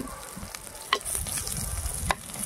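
Sliced onions and three green chilies fry in a pan with a soft, continuous sizzle, broken by two brief clinks of a spoon stirring against the pan, close and quiet.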